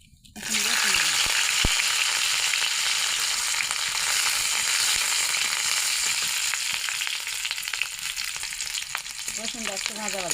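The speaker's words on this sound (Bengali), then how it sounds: "রসুনটা একটু ভাজা ভাজা করবো।" Garlic frying in hot oil in a pan after dried chillies, a steady loud sizzle filling the whole stretch from a near source, with faint stirring and no one speaking.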